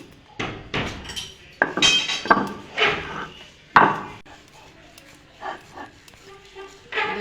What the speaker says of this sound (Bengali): এবার এটা আমি শিলে বেটে নেব। শিলে এভাবে বেটে নেব